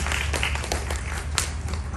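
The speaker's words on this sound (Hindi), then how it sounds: "आरती जी के लिए एक बार फिर तालियां हो जाएं" Audience applause at a World Hindi Day celebration hosted by the High Commission of India, a steady dense patter of many hands clapping close and loud, with no voices over it.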